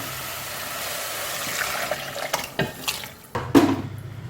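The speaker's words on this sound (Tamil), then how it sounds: "இந்த அளவுக்கு நல்லா தக்காளி கசஞ்ச அப்புறம் நண்டு எடுத்து இதில் ஊற்றிடுறேன்" Crab pieces are tipped into a pot of cooked-down tomatoes for crab rasam, with clattering, knocking and a wet splash as they land and settle.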